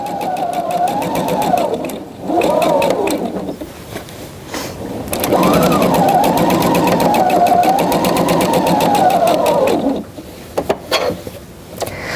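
A sewing machine stitches a rise seam in bursts of rapid, rhythmic needle chatter, running close and loud, pausing briefly between runs, and ending with a few short clicks.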